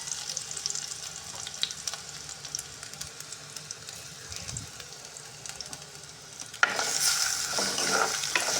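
Crushed ginger and garlic hitting hot coconut oil in a pan, a steady broadband sizzle with stirring scrapes that flares into a louder, brighter hiss near the end.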